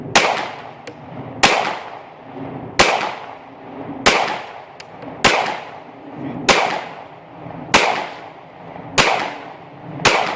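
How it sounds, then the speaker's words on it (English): A woman named Cindy fires a gun at an outdoor firing range during a defensive shooting session: eight sharp, loud reports in a steady rhythm about a second and a half apart, each with a ringing decay, and no talking between them. "here's Cindy shooting that"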